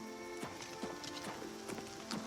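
Hooves of a horse in the video game Oblivion Remastered clip-clop in a steady walking rhythm, five or six distinct knocks over a constant background hum, fairly quiet and close.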